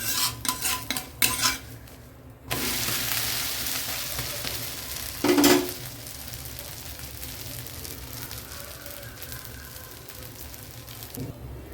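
Mudakathan (balloon vine) dosa cooking on a pan with sesame oil, a steady close sizzle punctuated by sharp metallic scraping and clattering of a spatula as it is loosened and flipped, no talk.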